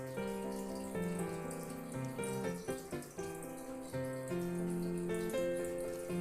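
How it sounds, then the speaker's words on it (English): Water runs steadily from a sink tap while an iron kadai is washed beneath it, a continuous splashing wash heard under fairly loud background music. "I have washed iron kadai and I am going to season it now."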